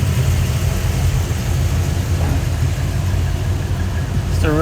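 A 1972 Chevrolet K10 4x4 pickup engine runs at a steady idle, a continuous low rumble held close and even, with a brief whistle-like sweep near the end.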